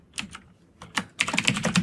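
Keystrokes on a computer keyboard while code is entered, a few scattered taps followed by a quicker burst of clicks, close and clear with no talking.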